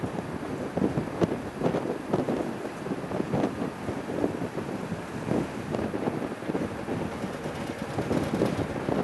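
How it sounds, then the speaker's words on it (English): Steady gusting wind buffets the microphone at a plane-spotting spot near Chicago O'Hare, a continuous low rumbling roar that swells and eases for the whole stretch without a break and with no talking. "Dang wind."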